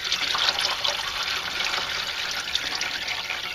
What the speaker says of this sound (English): you can see the back of the pan is tilted, and still sloshing some of the fluid out.